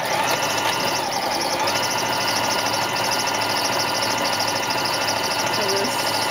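A sewing machine runs a decorative scallop stitch along the top edge of a pocketed place mat, a continuous steady mechanical hum and rapid needle chatter, close and fairly loud throughout.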